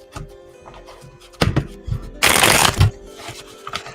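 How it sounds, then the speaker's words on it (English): Tarot cards being cleared and shuffled by hand: scattered soft taps and card slaps, then a dense riffling burst in the middle, followed by a few more light thumps. "I'm gonna go ahead and clear the deck and shuffle while I'm waiting."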